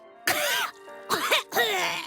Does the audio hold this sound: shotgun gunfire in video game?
no